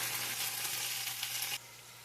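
A steady, close sizzle of sausage frying in hot sausage grease, crackling evenly before dropping suddenly to a softer hiss.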